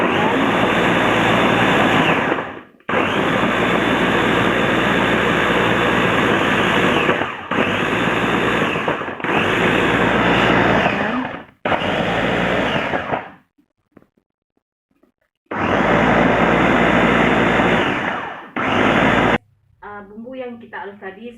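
An electric blender grinds a spice paste for a Padang eggplant and anchovy curry in loud roaring bursts, several on-off runs separated by short pauses, ending in quieter clatter.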